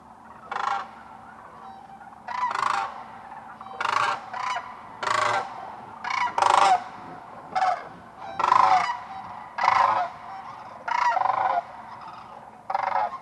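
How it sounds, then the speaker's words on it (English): Sandhill cranes calling in a series of loud, rolling bugling bursts, about a dozen separate calls spaced irregularly with brief pauses between, close and clear with no talking. "there's time enough to share once again how sandhill cranes sound"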